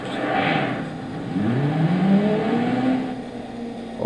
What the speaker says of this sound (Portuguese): Ali deu um problema de injeção no carro, né?